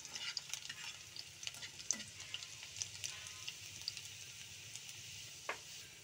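Finely chopped garlic cloves fry until golden, a faint, steady sizzle with scattered small crackles and soft spoon scrapes, quiet and close, with no talking.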